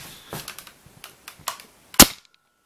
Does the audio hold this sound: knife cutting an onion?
no